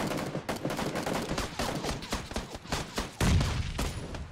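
Gunfire in the PUBG battle royale game, rapid bursts of shots in a steady rattling stream with one louder, heavier blast near the end.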